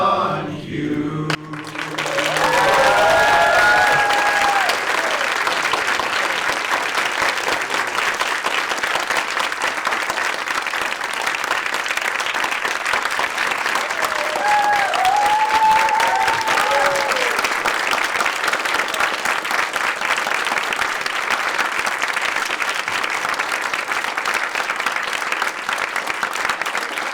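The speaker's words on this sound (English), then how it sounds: "Let us all cheer in thanks to John Hughes." An audience applauds and cheers for a retiring lecturer at his last lecture, a dense, steady wash of clapping that swells in and holds loud for nearly half a minute, with a few voices rising through it.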